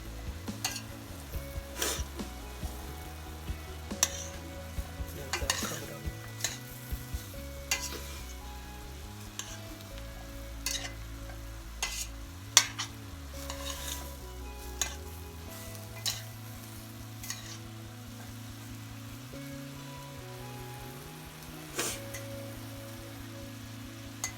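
Spinach sautéing in a pan while being stirred, with a steady close sizzle and crackle broken by repeated scraping and stirring strokes, and no talking.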